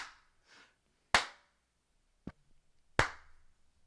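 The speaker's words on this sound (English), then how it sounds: "Let's all start try our hands at clapping." A few people clapping hands during a live stream, sharp isolated claps spaced about a second apart with softer brushing sounds between, close and fairly quiet.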